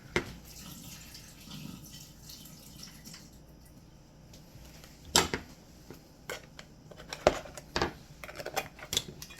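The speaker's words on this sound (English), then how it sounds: "Drain the water." Water drains from a can in an uneven pour, trickling and splashing, with scattered drips and metallic clinks toward the end.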